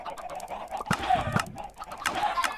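Chickens on a video game chicken farm cluck in short, repeated bursts, with layered birds clucking close and fairly loud.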